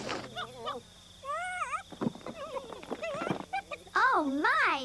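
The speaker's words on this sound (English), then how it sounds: "What's the matter with that dumb dog?" A cartoon dog in the 1995 Gumby animated film whimpers and barks in wavering, whiny bursts, loud and close, mixed with lively speech-like vocal sounds throughout.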